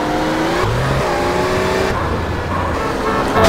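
A car driving in the game Grand Theft Auto San Andreas, its engine holding a steady drone with shifting revs and tones, loud and continuous with no talk.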